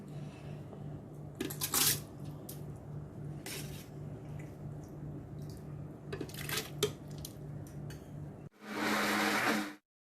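Mixer grinder whirring steadily as it grinds batter ingredients for Konkan amboli, a thin rice batter, with a steady hum broken by brief clatters and rattles of the jar, then a louder, denser burst of grinding near the end.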